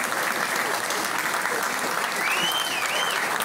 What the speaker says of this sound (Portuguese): Dou uma salva de palmas aqui.